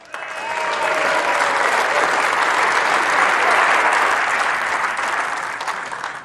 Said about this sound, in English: can you please give a round of applause for our presentation party